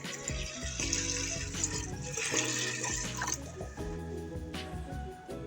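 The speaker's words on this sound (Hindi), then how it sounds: "दालों के हिसाब से इसमें पानी डाल देंगे।" Water is poured from a tap into a cooking pot of soaked lentils and rice for haleem, a steady close splashing and trickling that lasts several seconds without talk.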